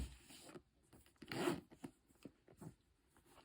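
A handbag's exterior zip pocket is pulled open in a few short scratchy runs, close and quiet, with one louder drawn stretch in the middle.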